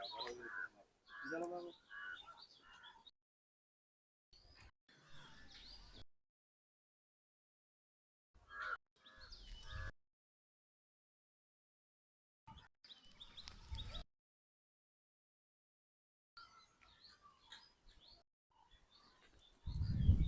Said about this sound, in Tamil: பறவைகள் சரணாலயம்